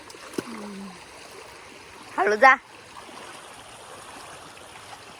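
A small stream or waterfall near Sulkoba in Khatav, Satara, flows with a soft, steady rush under the scene, while a person speaks briefly in the middle.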